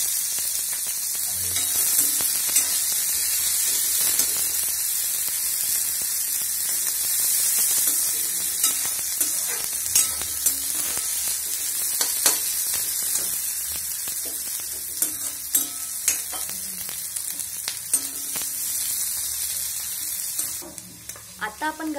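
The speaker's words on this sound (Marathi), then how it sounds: "तर तेल तापून झालेलं आहे, आता आपण कांदा परतून घेणार आहोत।" Onion sautéing in hot oil in a pan, a dense continuous sizzle with occasional stirring scrapes and clicks, loud and close, with a faint electrical hum underneath and no talking.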